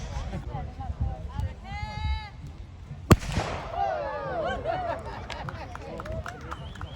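A small medieval gunpowder gun goes off at Arundel Castle, a single sharp loud bang cutting through crowd chatter, with voices and a child's cry around it and the outdoor murmur carrying on afterward.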